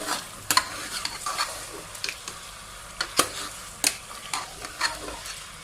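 Mutton with green cardamom and cloves being stir-fried in a pot for a matar gosht curry, with repeated stirring scrapes and crackling sizzles recurring in an irregular rhythm, close and moderately loud.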